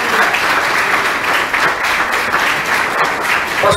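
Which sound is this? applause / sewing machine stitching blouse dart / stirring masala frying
applause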